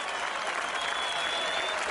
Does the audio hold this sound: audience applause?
yes